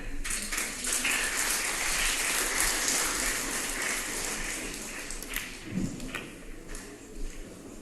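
A crowd at a European Championship 8-ball pool final applauds in a sustained, dense burst of clapping that slowly thins out toward the end, with no talk over it.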